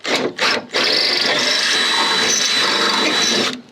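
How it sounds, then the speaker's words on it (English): A power drill whirs steadily while enlarging a hole during a window repair on a third-generation Camaro or Firebird, after two short bursts, running loud and close for about three seconds before stopping. "Hopefully that's big enough without breaking another drill bit."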